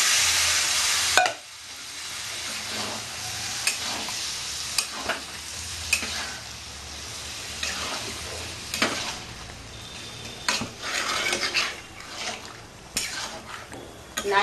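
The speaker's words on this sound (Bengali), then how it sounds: "এবার আমি তরকারিটা ওতে দিয়ে দেবো।" Ridge gourd and potato curry is tipped into a pan of prawns fried with coconut and poppy seed. Loud, close sizzling fills the clip, with repeated clinks and scrapes of a spoon stirring against the metal pan.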